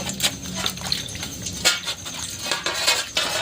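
Metal plate being rinsed with spiced water during cooking, with scattered sharp clinks and scrapes of dishware against a light wash of splashing water, close and moderately loud.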